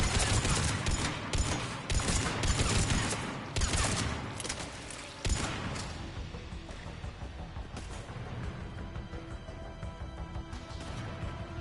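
Dense, continuous gunfire from a Mass Effect 3 battle, with rapid overlapping shots in the first half that thin into steadier firing, loud and close throughout, with no talking.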